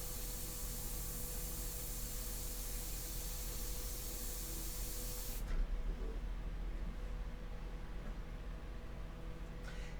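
Airbrush spraying India ink onto paper at about 25 psi with very low airflow, a steady close hiss that cuts off sharply midway, leaving a faint background hiss.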